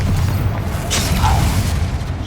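Fiery spell blast in a Hogwarts Legacy battle: a deep rumbling boom with a brief bright crackle flaring about a second in, then rolling low-end noise that stays loud throughout.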